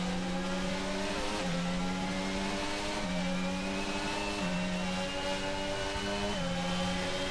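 A Red Bull-powered Formula 1 car at the Chinese Grand Prix in a racing video game, its engine screaming up through the gears in repeated rising sweeps with quick shifts, loud and steady with no talk.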